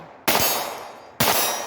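Two sharp shots from a Ruger Mark IV pistol, each followed by a bright metallic ping as the round strikes a steel target about 40 feet away, with a ringing decay between them.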